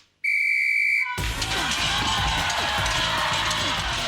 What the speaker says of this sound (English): When the whistle blows, your time will start